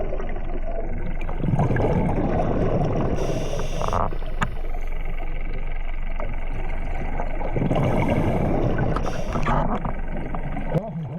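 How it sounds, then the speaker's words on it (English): A scalloping boat's engine overhead, heard underwater during a dive off Guernsey, drones muffled and rumbling, steady and continuous, with gurgling bursts and swells of bubbly noise. "It's always nice to hear the boat directly above our head."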